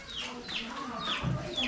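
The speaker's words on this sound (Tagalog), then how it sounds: "Papakain lang po ng manok si Bossing." Chickens cluck repeatedly while being fed in a rural yard, with several overlapping, fairly close clucks and short calls following one another in a busy, uneven rhythm.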